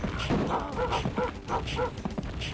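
Dog barks and yips from the player-controlled dog in the shooter Rise of the Triad's dog mode, several short woofs in an irregular rhythm over a busy game soundscape.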